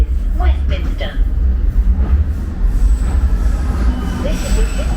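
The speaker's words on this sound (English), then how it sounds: "This is the District Line train to Ealing Broadway." A London Underground District Line train running between Westminster and St James's Park, with a steady low rumble of wheels and motor throughout. Brief wheel squeals come and go, with announcement speech over the top.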